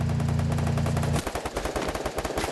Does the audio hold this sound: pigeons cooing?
no